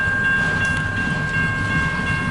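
A long-haul CN mixed-freight manifest train rolls past westbound, giving a steady, loud, continuous rumble with ringing metallic tones held throughout and no voices.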